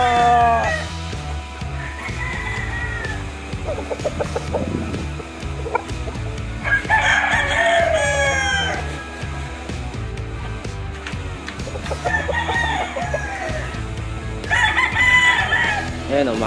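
Several roosters crow one after another at close range, with long rising calls overlapping amid constant clucking and background farmyard noise.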